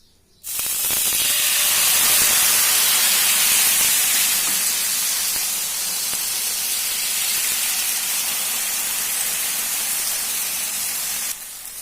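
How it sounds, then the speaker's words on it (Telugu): Rava dosa batter poured onto a hot pan sizzles loudly in a steady, continuous hiss that starts abruptly and holds for about eleven seconds before cutting off, with no talking over it. "పిండం అయితే వేడెక్కింది కదా ఇప్పుడైతే దోశ అయితే వేసేసుకుందాము"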